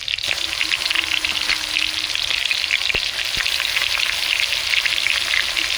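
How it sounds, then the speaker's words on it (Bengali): Prawns frying in a pan with onions and fish oil give a loud, steady sizzle throughout, broken by a couple of sharp clicks from stirring, with no speech. "ভালো করে পেঁয়াজের সঙ্গে মাছগুলো ভেজে নেব।"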